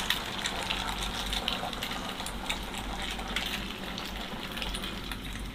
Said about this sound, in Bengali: এখন আমি ডিমটাকে একটা প্যানে ভেজে নেব।